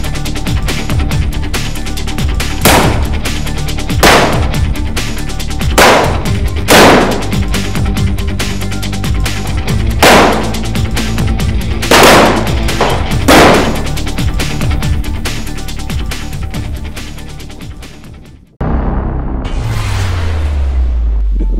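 Rifle gunfire at an outdoor shooting competition: a string of loud, sharp shots at irregular intervals over a steady dense background roar, with echoing cracks, then a brief drop and a rumbling rush near the end.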